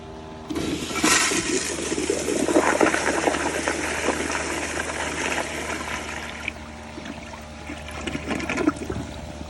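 A Sloan Regal diaphragm flush valve on a toilet gives a loud, powerful rushing flush that surges, holds strong for several seconds, then tapers into refill water, close and alone with no talking.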